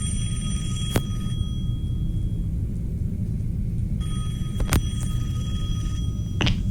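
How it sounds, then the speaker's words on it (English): In the horror game Don't Make Noise (The Intruder), a telephone rings in two electronic bursts separated by a pause, over a steady low rumble, with a few sharp clicks. "Oh, the phone is ringing."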